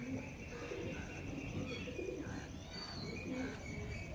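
Soft, steady cooing from a Star Kalanka pigeon pair rolls on throughout, faint and close against a low background hiss, with no voices.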